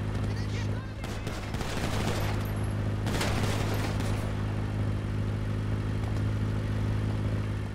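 Rapid gunfire bursts in the GTA 5 video game, a dense volley of shots for a few seconds over a steady engine drone, then fading back to the drone.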